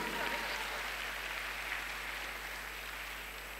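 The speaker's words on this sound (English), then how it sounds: "let's have one more round of applause for all the affirmative team speakers together" Faint, distant applause from a debate audience at the World Scholar's Cup Global Round showcase gives a soft, rain-like patter. It sits over a steady low hum and fades slightly toward the end.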